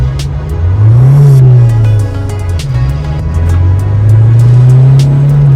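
A remapped 2020 diesel pickup with a 1.9-litre engine pulls away gently from a standstill, its engine note rising and falling through the gears, loud and close, with faint clicks over the steady drone.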